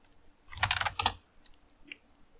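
Someone types on a computer keyboard at a desk while running hacking commands: a quick burst of clattering keystrokes, a short second flurry, then a single faint tap, heard up close.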